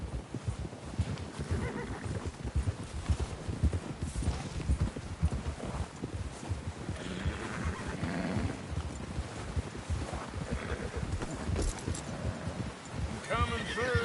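Steady clip-clop of horse hooves at a gallop in the game Red Dead Redemption 2, with occasional whinnies, beneath overlapping voices and busy background noise.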